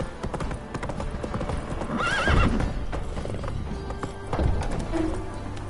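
Roach, the horse in The Witcher, gallops with a fast, steady beat of hooves and lets out a loud whinny near the middle. Game music and ambience run beneath the hoofbeats.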